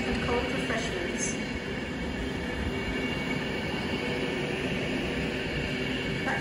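A train rumbles at Crewe railway station in a steady low roar, with faint squeals and clatter and a station announcement murmuring in the background.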